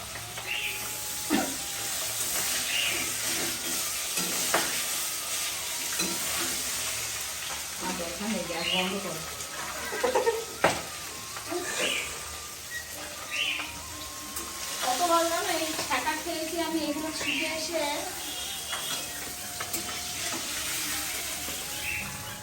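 Oil sizzles and crackles steadily as fish fries, with occasional stirring scrapes and a voice talking intermittently over the hiss.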